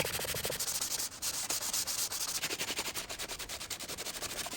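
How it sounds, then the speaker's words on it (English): Flat wooden sides of a sleeping platform built for a Toyota 4Runner are sanded by hand in steady back-and-forth rasping strokes, close and continuous with no talking. "I forgot that I gotta sand these flat sides down"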